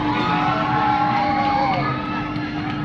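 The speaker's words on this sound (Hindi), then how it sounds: "इसके राइडर्स की चीख है ये तो जरूर साबित कर ही देती है कि सच में ये स्क्रीम मशीन है।" Riders scream on the Scream Machine, a pendulum ride at the Imagicaa theme park: a steady, loud wash of crowd shrieks and whoops that holds throughout and fades slightly toward the end.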